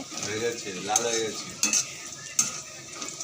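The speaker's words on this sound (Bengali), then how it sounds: "এখানে মাছ ভাজা আর এখানে পেঁয়াজ ভাজা হচ্ছে" Fish and onions frying in a kitchen pan, with a soft continuous sizzle under a few sharp metallic clinks of a utensil stirring against the pan.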